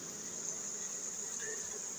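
Honey bees buzz on a newly drawn comb built on homemade wax foundation. The hum is faint, steady and continuous, with no talk over it.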